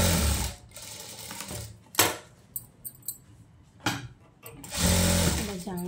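A sewing machine stitches a silk skirt blouse in short bursts, its motor whirring in loud runs broken by brief pauses and small clicks of handling, with a voice speaking in between.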